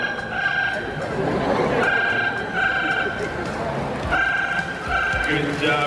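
A talking bird at Singapore's Bird Paradise imitates a ringing telephone, giving repeated steady electronic-sounding trills in short bursts over crowd chatter at a bird show.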